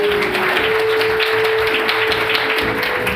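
A church congregation applauding together in steady, continuous clapping, loud and full, with a sustained tone running underneath.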